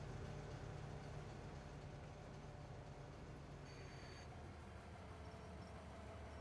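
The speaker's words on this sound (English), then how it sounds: "the train is always so deceptive when it's braking" A low rumbling train noise in Farming Simulator 25 drones on steadily as the train brakes, with a brief high squeal partway through, quiet and continuous, with no talking.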